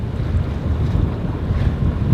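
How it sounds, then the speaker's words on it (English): Wind gusts roar across a sailboat during a thunderstorm, producing a steady, loud buffeting rumble with rushing water noise and no voices. "It's getting windier and windier."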